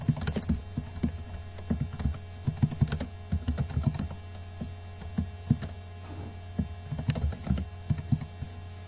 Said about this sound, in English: So I'm going to type a line of text